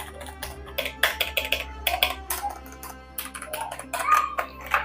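Limited-edition RisoPhy hot-swappable mechanical keyboard keys clicking up close as someone types, a quick, uneven run of crisp individual clacks with no voices.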